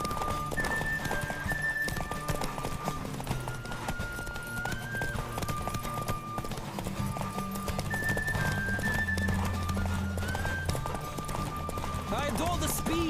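Rhythmic hoofbeats of a galloping horse in The Witcher video game pound steadily over a busy bed of music and game effects, with a whinny and voices cutting in.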